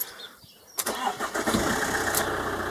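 A Fiat Stilo's car engine cranks briefly, then catches and roars into a steady rumbling idle, loud and close.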